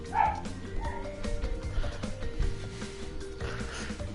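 A pet pug barks upstairs, muffled and somewhat distant, in short repeated yaps over a steady bed of background music.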